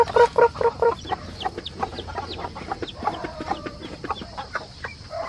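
A hen and her chick clucking on a farm: a burst of loud, rapid clucks first, then a steady scatter of softer clucks and thin peeps continuing nearby.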